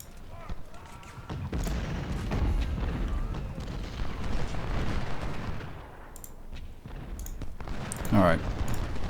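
Cannon artillery fire on a Civil War battlefield in a strategy video game, rolling booms and thudding volleys blending into a continuous battle rumble, with speech running over it.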